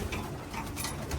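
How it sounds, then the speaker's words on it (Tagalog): Racing pigeons cooing softly, a brief, faint murmur of coos against quiet background noise, with no talking. "Ayun mga ibon natin."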